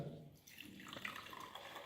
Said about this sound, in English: Now let us fill the glasses with the water.